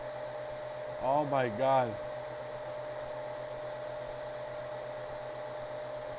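A STRONGU STU-U6 Dash coin miner runs loudly with a steady, constant fan-like roar and hum throughout, while a person briefly exclaims over it near the start.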